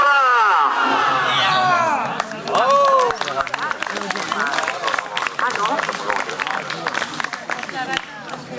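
A crowd at a No TAV protest bike ride in Chambéry applauding loudly and continuously, with voices shouting and cheering over the clapping.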